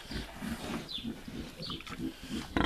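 A sow and a Vietnamese pot-bellied boar grunting and snuffling close by in a pen, with low rhythmic grunts running throughout and a sharper burst at the end.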